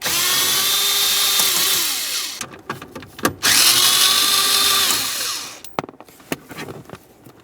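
A power tool spins out 7mm headed bolts beneath the hood release latch of a 2001-2005 Ford Explorer Sport Trac, two loud close whirring bursts rising and falling in pitch, separated by clicks and handling rattles.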